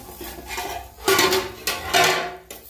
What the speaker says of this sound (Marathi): तेव्हा आपण त्याच्यावर झाकण ठेवलं होतं ते आता काढून घेऊया